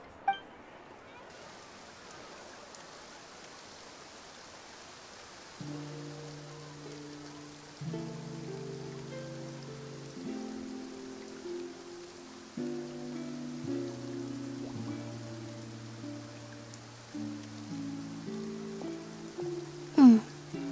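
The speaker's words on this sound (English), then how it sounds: "Looks like rain." Rain falls in Fontaine in the video game Genshin Impact, a faint, steady patter under soft melodic game music, with a brief clink near the start and end.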